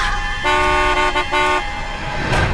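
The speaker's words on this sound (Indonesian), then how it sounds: "Refleks aku pun membunyikan klakson" A car horn honks twice in short bursts, loud and close, with traffic noise in the background.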